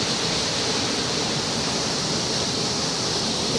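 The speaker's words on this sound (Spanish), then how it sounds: "No, es que aquí no se ve la cascada." A waterfall at Petrohué, Chile roars as a dense, steady rush of water that fills the whole moment with unbroken broadband noise, close and loud.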